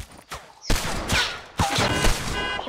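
Gunfire in the video game Fortnite, several sharp loud shots with echoing tails spread across a short burst, with no talk over it.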